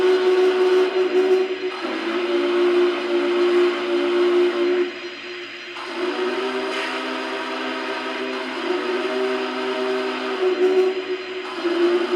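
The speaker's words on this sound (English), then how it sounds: "this is obviously the main big boy whistle" A loud, sustained steam whistle from a Lionel VisionLine Big Boy 4019 model train blows in long chord-like blasts with short breaks between, over a steady rumbling hiss, with no voices.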